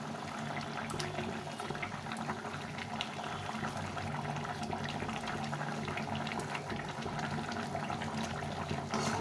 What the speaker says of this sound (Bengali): ঝোলটা ফুটে গেছে